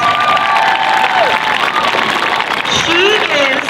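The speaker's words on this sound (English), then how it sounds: "Can you please give her a big round of applause?" Audience at a May 2023 gathering applauding and cheering for a worker honored for 44 years at one place, with steady dense clapping, shouts and some voices throughout, fairly loud and close.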